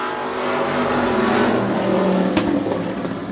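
Modified race cars run side by side on a track, their engines roaring loud and close in a continuous rising and falling drone as they pass.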